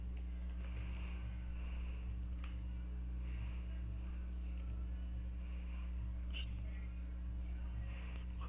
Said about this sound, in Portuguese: E aqui eu vou digitar um cabeçalho de exemplo